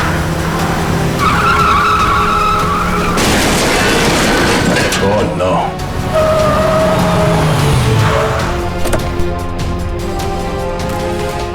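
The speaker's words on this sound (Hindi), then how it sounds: "कैसे चलाते हैं ये लोग गाड़ी?" A car in a crime drama scene drives hard and skids, with long screeching tire squeals, engine roar and a loud crash-like burst in the middle, while a man briefly exclaims over the din.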